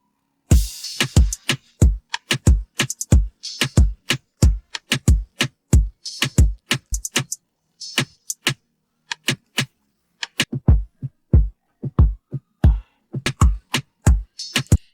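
An isolated drum stem from a reggaeton hip-hop track, separated by AI stem splitting, plays sharp punchy hits in a steady syncopated pattern with crisp snare-like accents and short pauses, dry and alone.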